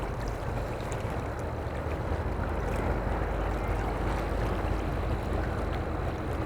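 The lake freighter Mesabi Miner moving slowly up a river, its engine rumble shifting tone as the propeller pitch changes; a dense, steady low drone and churning water noise fill the scene continuously, with no voices heard.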